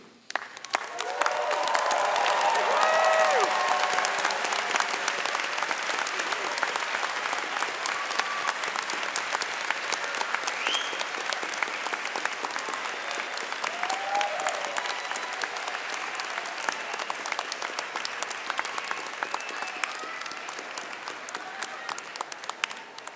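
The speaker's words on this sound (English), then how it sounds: "Please stand up and give them an enthusiastic cheer" At a university engineering graduate commencement, a large crowd of graduates applauds for their families for over twenty seconds. Dense, steady clapping fills the hall with scattered cheers and a few brief whoops.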